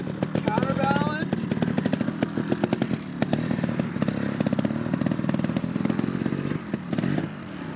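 A trials motorcycle engine revs and sputters in uneven bursts over rocky ground, with clattering underneath, while someone talks over it close by.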